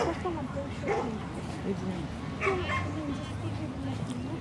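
A mixed-breed dog barks a few times at a moderate distance, the yaps set in a noisy outdoor scene with people talking throughout.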